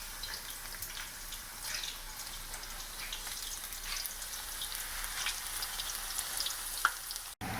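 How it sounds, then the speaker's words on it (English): Steady, quiet sizzling of zucchini frying in oil at about 350 degrees, with soft crackles and pops continuing without pause. "Okay, let's get them fried. You want, the oil's about 350."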